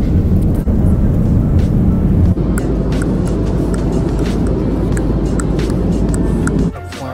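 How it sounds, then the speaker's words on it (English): Loud, steady roar of a passenger jet accelerating down the runway for takeoff on a flight to Hawaii, heard from inside the cabin at a window seat, with a continuous low rumble that eases near the end. "Oh my god, we're taking off."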